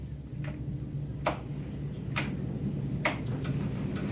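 Four sharp, isolated clicks spaced about a second apart, crisp and close, over a low steady background hum.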